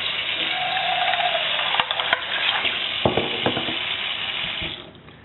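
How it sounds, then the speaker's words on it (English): Water poured from a tap into a saucepan holding jar lids, a continuous splashing flow with metallic clinks and knocks from the lids partway through, close and fairly loud. "put them in a saucepan, and apply water to it"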